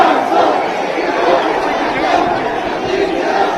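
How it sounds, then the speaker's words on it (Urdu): Turkish crowd at a pro-Palestinian rally chanting slogans in unison, a dense, loud wall of massed voices with rhythmic surges, steady throughout. "ترک شہریوں نے ظلم کے خلاف جدوجہد کر رہے فلسطینیوں کے ساتھ یکجہتی کا اظہار کرتے ہوئے نعرے لگائے"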